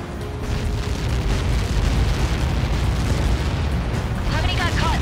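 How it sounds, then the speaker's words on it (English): A projectile strikes and explodes, producing a loud, sustained rumbling roar that fills the whole span with heavy low-end energy. Radio chatter crackles faintly near the end. "How many got caught in that explosion?"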